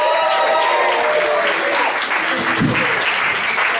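Steady, loud applause from a comedy club audience in Lancaster welcomes compere James Nolan to the stage, dense clapping with a few faint voices mixed in.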